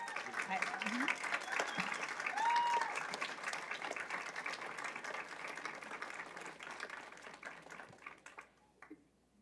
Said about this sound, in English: another round of applause for our third-place boys state finalists